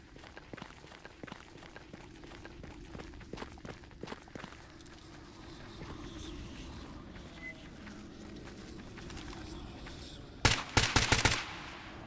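Rifle gunfire in the video game Stalker GAMMA: a rapid burst of loud shots near the end, after a stretch of scattered impacts, footsteps and low ambient rumble.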